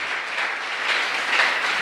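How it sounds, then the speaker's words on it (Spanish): A church congregation breaks into steady applause, a close, even wash of many hands clapping with no voices over it. "Denle un fuerte aplauso al Señor."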